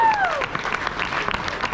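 Tournament audience breaking into applause, a brief burst of crowd clapping and cheering lasting under two seconds, near and lively, with a voice briefly audible at the start.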